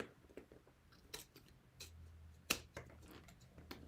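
Scissors trim excess fabric while binding a bowler bag, a quiet series of irregular close snips and crisp cuts in a hushed room with no voices.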